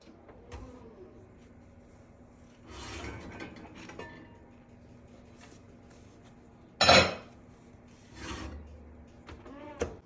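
Sourdough bread is baking while the oven is opened and the lid is lifted from the baking pot with quiet scrapes and rubs. A sharp metallic clank stands out partway through, then the oven closes with a soft bump.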